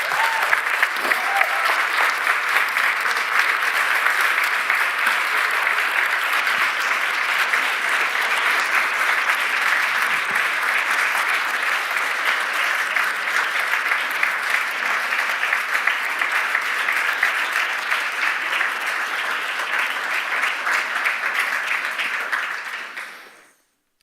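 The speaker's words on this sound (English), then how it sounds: "You heard the applause." A large audience applauds after a keynote at a culture and creativity event, a dense sustained wash of clapping that stays steady for over twenty seconds before stopping abruptly.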